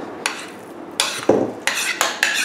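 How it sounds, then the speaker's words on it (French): Fromage blanc going into a mixing bowl for a speculoos cheesecake: a few soft scrapes and spoon clinks against the bowl, short bursts close by with brief pauses, no talking. "dans un saladier, je vais commencer par verser le fromage blanc"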